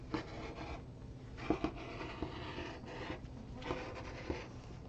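Scissors or a cutter work through fabric laid under a vinyl pattern template, giving soft, continuous rubbing and snipping with a few sharper cuts, close and fairly quiet.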